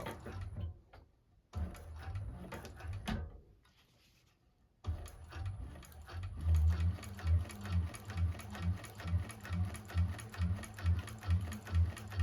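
A 1341 cylinder arm sewing machine stitches a seam on a bag with a steady, rapid mechanical chatter, starting in short bursts, pausing briefly, then running continuously at close range.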